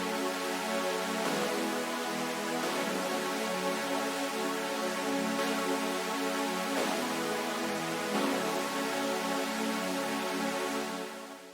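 A lead of synthesizer saw-wave chords from a remake of a drum and bass track, with bright, buzzy, sustained chords changing every second or so, playing alone and continuously.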